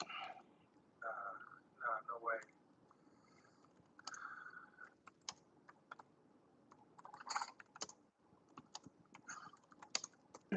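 Someone types on a laptop keyboard in scattered bursts of quick, close clicking, with pauses between runs of keystrokes and a faint voice now and then.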